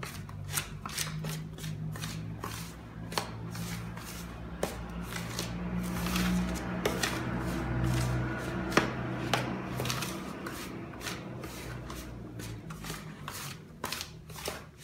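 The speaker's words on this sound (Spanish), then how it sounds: "Voy a mezclar primero con la cucharita para no quemarme." A small spoon mixes flour tortilla dough, made with one cup of hot water per half kilo of flour, in a bowl; quiet, irregular clicks and scrapes repeat steadily throughout.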